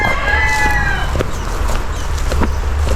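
A rooster crows loudly nearby while hens cluck and chatter continuously around it, a busy farmyard chorus.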